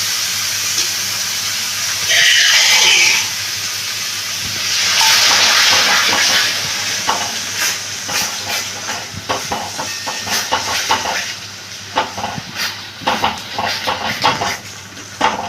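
Water poured into frying masala for a dhaba-style egg tadka sets off two loud surges of hissing steam, which settle into a lighter, crackling sizzle with irregular pops close by.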